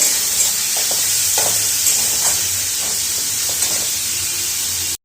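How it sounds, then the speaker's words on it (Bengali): Chopped onion frying in a pan for a chicken roll filling gives a loud, steady, close sizzle throughout, with faint stirring taps, before it cuts off abruptly at the end. "এবার পেঁয়াজ দিয়ে দেবো কুচনো, দিয়ে এবার এর সাথে একটু ভেজে দেবো ভালো করে।"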